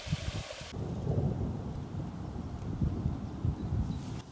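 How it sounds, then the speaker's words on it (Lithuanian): Distant thunder rumbles low and steadily during a storm on the Nevėžis river, a rolling murmur under wind, with no talk. "Ten taip griaudžia"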